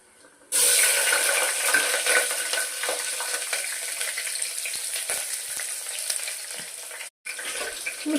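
Pulao ingredients frying in a pan with a steady, close sizzle that starts abruptly and runs on with faint stirring scrapes, briefly cutting out near the end before resuming.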